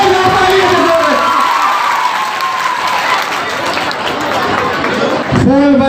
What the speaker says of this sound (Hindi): एक बार जोरदार तालियां दें, कितनी ताकत है बालिकाओं में, नारी शक्ति में। जोरदार तालियां दें।